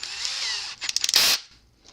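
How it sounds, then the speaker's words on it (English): A power drill fitted with a 13/64 bit bores a hole during an RC car wheelie bar install, a close, loud high whine with a brief stuttering burst of bites before a sustained grinding push, then spinning down. "I'm going to drill this hole out here."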